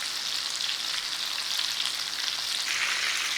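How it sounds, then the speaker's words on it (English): Lamb chops fry in a pan as their fat renders out, giving a steady, close, unbroken sizzle with a bright crackling hiss and no talking. "we are rendering the fat off there"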